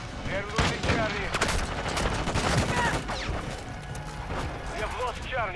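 Dense, continuous gunfire from the video game Call of Duty: Modern Warfare II, rapid automatic bursts and overlapping shots layered with shouted combat voices and radio chatter throughout.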